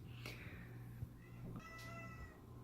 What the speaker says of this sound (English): I'm getting yelled at by my cat.